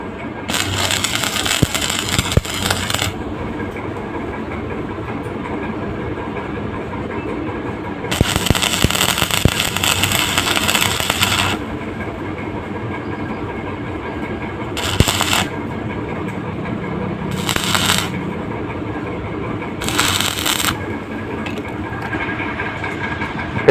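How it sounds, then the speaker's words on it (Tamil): Arc welding a straight bead: several bursts of loud broadband crackle and hiss, long at first and then shorter, separated by pauses with a steady low background hum. "இப்போ பார்த்தீங்கன்னா ஸ்ட்ரைட்டாக வெல்டிங் இழுக்க போகிறோம், பார்த்துக்கோங்க."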